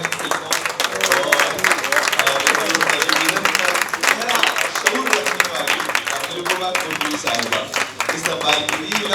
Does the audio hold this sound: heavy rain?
no